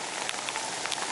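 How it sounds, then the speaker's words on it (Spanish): Rain pattering steadily on a surface during a motorcycle ride, a dense continuous hiss with scattered sharper drops, close and fairly loud, with no voices. "Eso es un poquito de lluvia."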